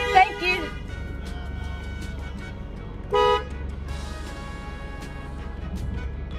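A car horn honks on a wide, highway-like street, with a short blast at the start followed by a longer, steady toot a few seconds later. Passing traffic hums underneath, and a person talks nearby.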